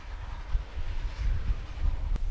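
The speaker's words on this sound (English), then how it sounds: "our two favorite engines bring home the day's harvest, making a lot of racket" Steam locomotives haul a standard-gauge sugar cane train in from the fields at a Cuban mill. A steady, heavy low rumble and rolling clatter is heard from a moderate distance, mixed with wind noise.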